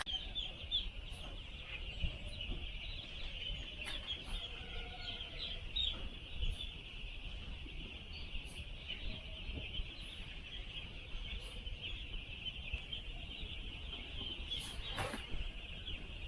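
Chickens cluck and peck at a feeder on a poultry farm, their calls faint and scattered over a steady high-pitched drone and background noise throughout.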